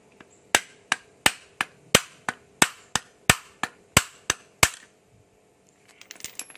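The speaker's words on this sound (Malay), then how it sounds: "Dan saya akan ketuk guna tukul" A hammer taps a size 8 T-socket fitted onto a car windscreen wiper arm, about a dozen sharp metallic knocks in an even rhythm, close and distinct, followed by quieter clinks after a pause.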